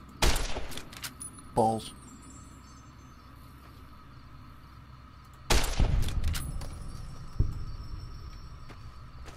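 Gunfire in the video game Fallout New Vegas, modded, with a couple of sharp loud bursts near the start and another cluster around the middle, separated by quieter ambient stretches, and a brief spoken word.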